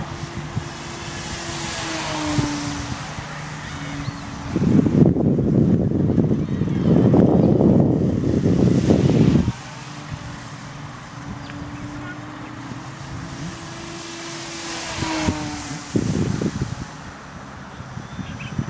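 A Parkzone Spitfire RC model plane flies in calm conditions, its electric motor whining as it passes near and fades away, with gusts of heavy microphone wind noise in between and a voice speaking at times.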